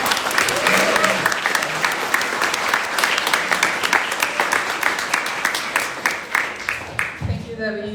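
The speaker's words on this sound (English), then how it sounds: "let's give her a round of applause" An audience applauds a speaker being introduced, steady loud clapping from a sizable crowd that fades out near the end as a voice begins talking.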